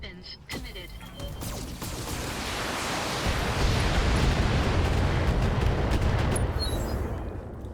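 Mech weapons volleys and explosions from the BattleTech video game, opening with sharp cracks and then swelling into a loud, sustained rumbling roar of blasts that holds steady to the end.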